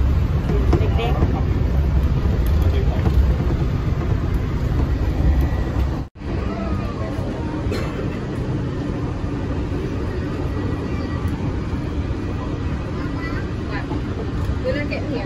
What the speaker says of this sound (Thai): ตอนนี้เรานั่งบนรถไฟกันจ้ะ